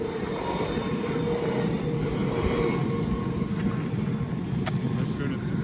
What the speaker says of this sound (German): Eine schöne Zugaufnahme.